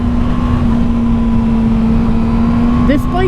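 A 2019 Yamaha R6 sport motorcycle engine runs with a steady, droning hum, held at a constant pitch before a brief rise near the end. It is close and loud, with no clear talk.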